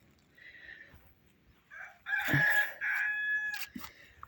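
A rooster crows loudly nearby in one long drawn-out call, preceded by softer clucking and hen sounds.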